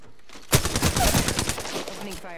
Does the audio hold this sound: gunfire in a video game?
yes